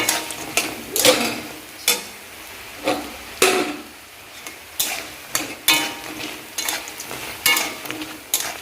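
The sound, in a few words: frying snacks in hot oil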